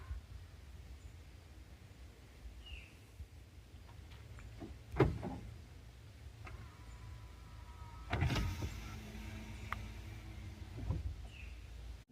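Electric motors of a Chevy Silverado's power windows whir in brief spells, triggered remotely from the key fob, with the loudest movements near five and eight seconds over a low outdoor hum.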